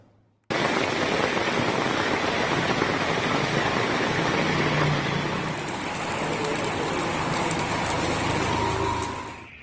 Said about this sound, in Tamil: தூத்துக்குடி மாவட்டம் மற்றும் மாநகர பகுதிகளில் இரவிலிருந்து தொடர்ந்து பலத்த மழை பெய்து வருகிறது.